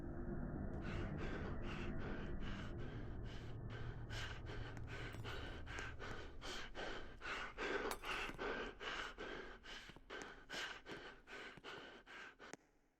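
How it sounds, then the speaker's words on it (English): Survivor's rhythmic heavy breathing in the horror video game Survive the Night, a long series of quick, evenly spaced panting gasps heard close and clear over a low background hum. "It's the time where you can actually hear the breathing happen."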